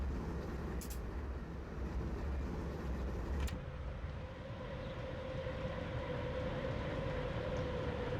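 Mountain freight trains carrying crude oil in Transport Fever 2 rumble steadily with a continuous low rolling drone and a faint whine, heard alone.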